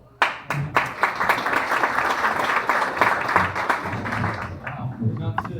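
An audience at a regional farm meeting in Lambton County breaks into brisk applause, dense clapping sustained for several seconds before tapering as a voice resumes talking.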